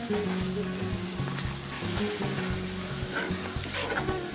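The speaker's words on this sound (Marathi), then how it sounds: "पेस्ट चांगली तेलावर परतवून झाल्यावर यामध्ये वाटून घेतलेलं कांदा आलं लसूण खोबऱ्याचं वाटून घालायचं" A ground paste of onion, ginger, garlic and coconut fries in oil, sizzling loudly and continuously up close, with occasional stirring.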